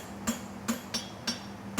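Blacksmith's hammer striking horseshoe stock in five sharp metallic blows with a ringing tone, spaced unevenly about a third of a second apart, close up with no talk.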